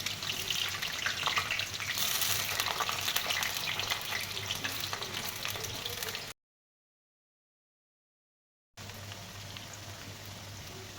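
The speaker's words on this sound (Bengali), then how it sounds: "তেলটা দিলাম কারণ ফুলকপি ভাজতে হবে আলু ভাজতে হবে" Potato and cauliflower pieces fry in oil in a wok with a steady, fairly quiet sizzle and crackle and occasional stirring noises, broken by a stretch of silence before the frying resumes.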